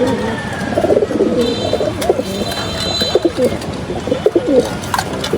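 Pigeons in a cage cooing in repeated soft, rolling calls, close and clear, with faint wing flutters and rustling around them and no talk.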